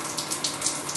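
Water pours steadily into a pot of rice, a continuous close splashing gush with slight pulsing surges.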